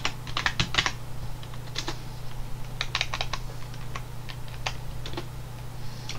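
Computer keyboard keys tapped in an R programming session, a quick burst of clicks followed by scattered single and paired keystrokes over a steady low hum, close and moderately loud.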